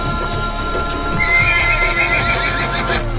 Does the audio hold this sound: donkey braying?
yes